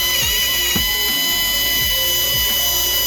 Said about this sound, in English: and start drilling it